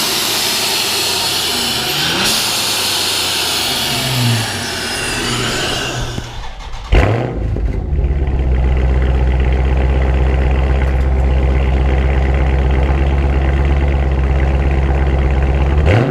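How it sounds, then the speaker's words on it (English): Loud exhaust from a Dodge Scat Pack and a V6 Dodge: a roaring rev sweeps up and cuts off, then after a brief break a steady deep rumbling idle holds close and strong to the end. "Obviously, the Scat Pack was a lot louder than the V6"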